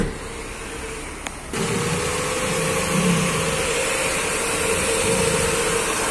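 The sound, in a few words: Ford Fiesta 1.0 engine running with slight cracking noise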